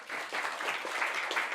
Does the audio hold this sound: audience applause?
yes